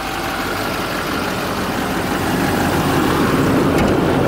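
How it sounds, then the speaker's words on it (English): A stock-exhaust LMM Duramax diesel in a lifted 2008 GMC Sierra 2500HD with an aftermarket intake idles steadily, a close, continuous low rumble that swells slightly louder toward the end, with no talking. "This is the LMM Duramax diesel. Stock exhaust."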